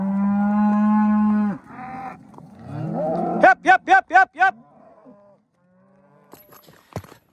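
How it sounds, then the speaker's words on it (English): Cattle being pushed through a gate and driven across desert country bellow and moo loudly, first one long low call, then a run of short rising moos. A brief spoken word and scattered rustling follow. "we're gonna get this bunch through there and push them back down the country a little ways"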